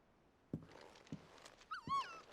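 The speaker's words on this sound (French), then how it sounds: "Oh, le chien." A dog in the Final Fantasy XVI video game gives a soft, high whimper near the end, after a few faint thuds in an otherwise quiet scene.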